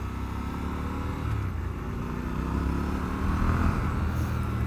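A 2021 Triumph Scrambler 1200 XE motorcycle engine drones steadily while riding, its revs climbing toward the end under steady wind rumble, close and without speech.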